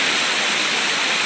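A mountain waterfall roars as water crashes down the slope, a loud, dense, unbroken rush that sounds close and overwhelming.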